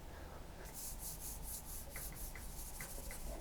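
Charcoal is rubbed across a drawing of a Cornwall coastal scene in short scratchy strokes, close and soft, a series of brisk swipes with no talking.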